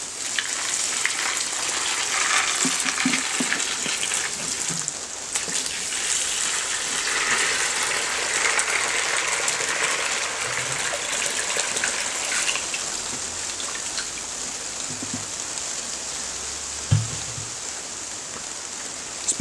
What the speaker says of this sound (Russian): Заливаем его водой.